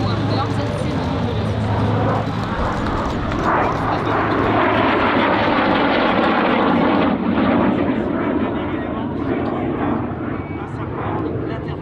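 A North American F-86 Sabre jet roars past at a French air show, a loud broad engine rush that swells and slowly fades, heard under continuous commentary.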